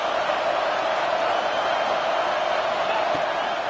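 A football stadium crowd at an Oklahoma State vs Texas A&M game roars steadily behind the defense on a big third down, a dense sustained wall of noise with talk over it.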